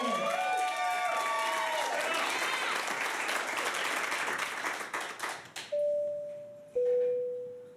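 An audience claps and cheers for performers, a dense wash of applause that tapers off into scattered claps, then gives way to two sustained electronic chime tones.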